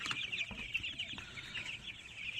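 Many chickens on a poultry farm cluck and chatter together in a continuous, faint flock murmur, with scattered individual calls rising above it.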